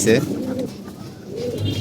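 A pigeon coos softly a couple of times, close by, with low murmuring voices in the background.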